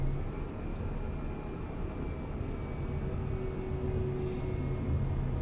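A Cirrus Vision Jet G2 in Microsoft Flight Simulator 2024 holds a steady takeoff-power roar, with a constant broadband rush and a thin high engine whine under it. It carries on unbroken and has no talking.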